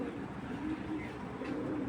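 A black racer pigeon cooing softly in a loft, a low, murmuring coo under faint background noise and other birds, quiet and continuous over a couple of seconds.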